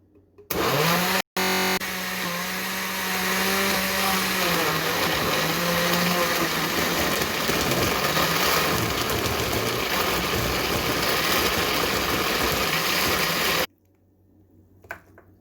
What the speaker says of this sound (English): I put the rest of the yogurt and the juiced ginger all together in my blender